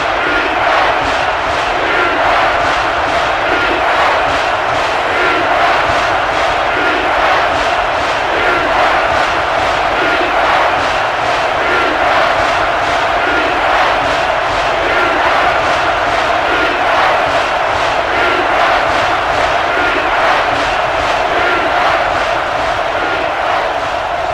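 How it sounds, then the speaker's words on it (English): A stadium crowd roars steadily in the NCAA Football 11 video game during a Florida Gators at Notre Dame matchup, loud and continuous with no break for the whole stretch. "And this crowd is going crazy."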